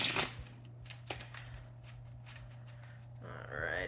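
Brisk riffling and flicking of playing cards, a few sharp bursts over a low steady hum, fairly close.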